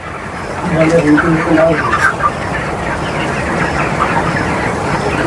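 Broiler chickens clucking inside a crowded poultry farm shed, a dense chorus of close, overlapping clucks over a constant flock murmur, loudest in the first two seconds.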